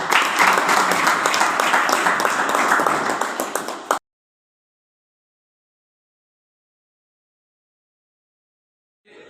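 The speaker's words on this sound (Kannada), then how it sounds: "ಅವ್ರಿಗೆಲ್ಲರೂ ಚಪ್ಪಾಳೆ ತಟ್ಟಿ" An audience at the Balki Math claps for visiting guests with close, full applause that runs for about four seconds and then cuts off into silence.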